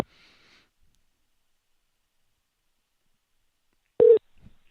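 A phone call signal tone sounds while dialing a contact: a faint short tone at the start, then near-silence, then one loud brief beep followed by a small click.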